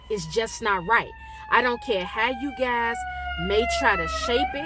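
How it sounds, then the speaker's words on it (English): An ambulance siren passing, its steady wailing tone gliding slowly down in pitch, heard at moderate distance beneath a person talking close by throughout. "That's the ambulance."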